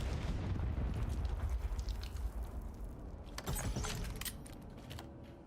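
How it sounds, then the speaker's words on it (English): Frag grenade explosion in the video game Call of Duty during a league match, a muffled low boom followed by scattered metallic clatter and sharp debris clicks, moderately loud, then fading out. "even the explosion of a frag grenade has not stopped the LA Thieves on this literal train track"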